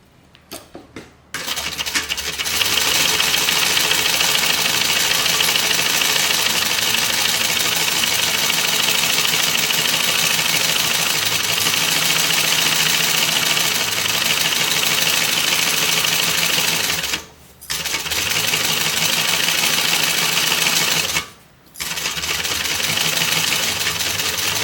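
Sewing machine basting a back pocket in place on a Dollie bag, a steady continuous mechanical run at close range that stops briefly twice.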